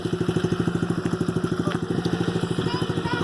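A dirt bike engine idles in neutral outdoors, a steady rapid low thumping pulse that stays close and even throughout, with faint background sounds above it.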